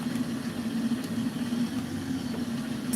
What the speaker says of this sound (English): so the engine's down to a normal idle.